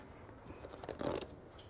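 Throwaway razor blade scoring through a foam yoga mat, a soft scratchy cutting drag that swells in the middle, fairly quiet and close with no talking.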